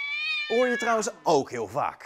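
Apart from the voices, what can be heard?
angry cat sound effect used in films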